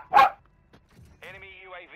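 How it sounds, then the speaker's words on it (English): A dog barks in the Call of Duty Warzone video game: one loud, sharp bark at the start, then faint scattered game noise. It ends on a higher, drawn-out whine or whimper. "Stop! A dog."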